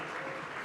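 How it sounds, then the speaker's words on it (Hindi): Dense, steady applause from a young audience at a live interview event, a brief continuous burst of many hands clapping together at even loudness. "और तालियों की गड़गड़ाहट से पता चल ही रहा है"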